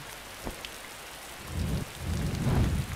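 Steady rain in the video game Survive: Wilderness Survival patters on surfaces, swelling with low rumbling thunder toward the end; no voices are heard.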